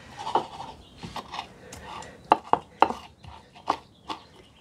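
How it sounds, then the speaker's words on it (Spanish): Chiles and garlic being crushed and ground for a salsa to serve with lechuguilla flowers: close, sharp grinding and pounding strokes in an irregular rhythm, some clearly louder than others. "Comenzamos moliendo los chiles y el ajo. Machacamos muy bien."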